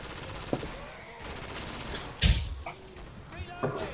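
Hand cannon shots in a shooter video game, a few sharp loud bursts standing out from a busy game soundscape, with voices talking over it.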